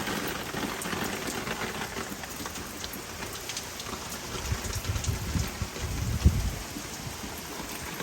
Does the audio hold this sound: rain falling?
yes